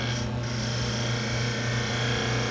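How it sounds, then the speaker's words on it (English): A skew chisel cleaning up a spinning wood cylinder on a lathe while turning a toothpick dispenser gives a steady, even rasping scrape with a low motor hum beneath it, running continuously. "I like to use the skew chisel"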